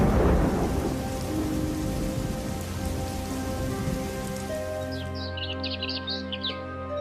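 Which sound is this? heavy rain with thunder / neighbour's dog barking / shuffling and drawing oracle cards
heavy rain with thunder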